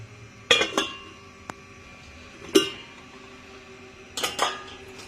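A metal lid goes onto a pot of mixed fruit chutney in three separate bursts of clattering and clinking. A single light tick falls between the first two, and the kitchen is otherwise quiet.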